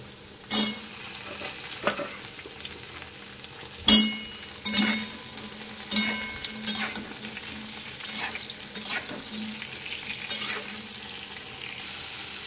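Ridge gourd fries in hot oil with already fried potatoes, a soft sizzle under repeated sharp clinks and scrapes of a spatula stirring against the pan.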